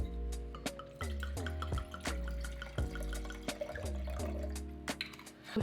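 Non-alcoholic wine glugs from a bottle into a ribbed wine glass, a quiet, close run of rhythmic liquid plops with a ringing, glassy resonance.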